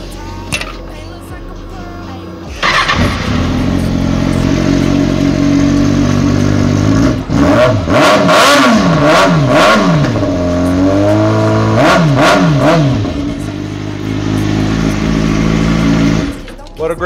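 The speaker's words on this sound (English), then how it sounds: "Let's get a sound test on this 2016 Kawasaki Ninja" A 2016 Kawasaki Ninja 636 sport bike idles loudly up close, then is revved in several sharp bursts, the engine climbing and falling repeatedly before settling back to a steady idle.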